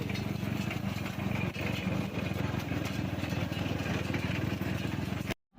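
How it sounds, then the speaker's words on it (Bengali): A sugarcane juice press driven by a motorbike engine runs steadily, giving a loud, even engine drone with rapid mechanical clatter before it cuts out abruptly near the end. "আখের যে রসটা বের করছে সেই সিস্টেমটা একটা বাইকের সঙ্গে চালিত আছে"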